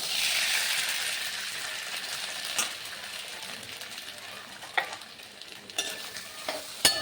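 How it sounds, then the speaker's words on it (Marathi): Pigeon pea kernels roasting in a little oil in a pan, a steady close sizzle with a few sharp scrapes and clinks of the stirring spoon, no talk. "याला व्यवस्थित भाजून घ्यायचं आहे"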